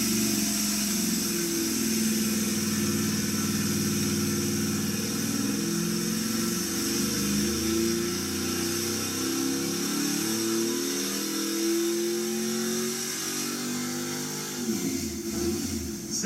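LSX 427 big block V8 running loud and steady with a deep, lumpy idle and rhythmic rises in pitch as it is revved, then a sharper blip of throttle near the end.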